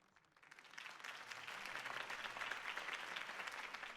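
Crowd applause in Batman: A Telltale Series, rising quickly from a quiet start into steady, dense clapping from a sizable audience that holds at full strength to the end.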